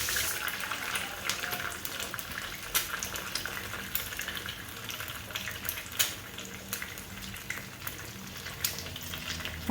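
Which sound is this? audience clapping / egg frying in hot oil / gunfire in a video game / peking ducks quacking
egg frying in hot oil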